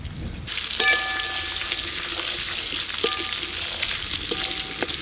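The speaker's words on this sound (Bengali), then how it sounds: "এবার দিয়ে দিচ্ছি কেটে রাখা ক্যাপসিকাম আর পেঁয়াজ।" Chopped capsicum and onion fry in a pan for village-style chilli chicken, with a loud, continuous crackling sizzle close up and brief metallic clinks of a utensil against the pan.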